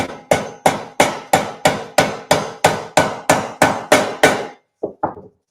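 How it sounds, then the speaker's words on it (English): A hammer strikes a thick nail used as a punch during a thrifted home decor makeover, giving fourteen sharp, evenly spaced metallic blows. A short pause follows, then two lighter, quicker taps close the sequence. "I got a hammer real quick."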